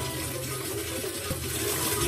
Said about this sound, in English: Oh, drinking water is pouring down?